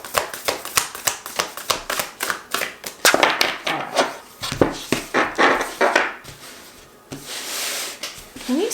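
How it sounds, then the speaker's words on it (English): A tarot deck is shuffled by hand in a rapid series of sharp, close card riffles and slaps, followed by softer sliding and a brief rustling pause near the end. "I'm going to do one more shuffle"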